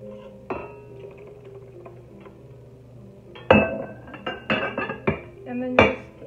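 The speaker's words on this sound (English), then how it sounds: "Just whisk it well." Eggs are whisked in a bowl, heard as a close run of sharp metallic clinks and taps against the bowl, sparse at first and then quick and clustered toward the end.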